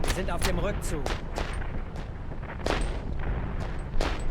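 A unit in the Platoon Commander video game fires its weapons at a building, a run of sharp gunshots and heavy booms in irregular bursts under game noise.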